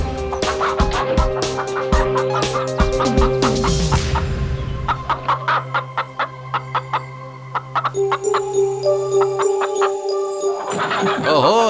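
Chickens cluck loudly and close in rapid, repeated bursts, with gobbling calls mixed in over a sustained tonal background.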